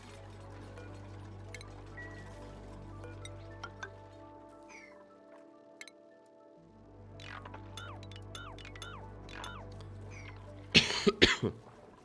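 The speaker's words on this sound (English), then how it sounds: "I coughed" A single sharp cough bursts out near the end after a quiet stretch of faint clinks and small ticking sounds, close and fairly loud against the low background.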